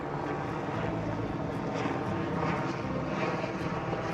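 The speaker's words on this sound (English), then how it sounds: "Now there's a helicopter again." A helicopter drones steadily overhead in the Bavarian Alps, a continuous loud rotor and engine rumble filling the whole stretch without a break.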